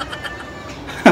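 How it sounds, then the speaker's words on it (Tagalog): A cat meows once at the very end, a short, fairly loud cry close by, following a steady low background hum. "Pusa."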